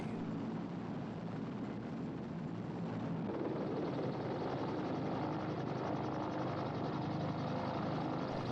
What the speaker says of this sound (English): one of the many helicopters now shuttling back and forth to the American fleet in the South China Sea